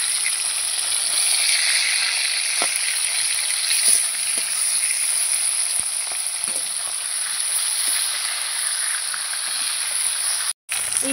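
Pomfret pieces frying in a pan give a constant bright sizzle and hiss with occasional soft crackles and pops, staying steady and close until a brief dropout near the end.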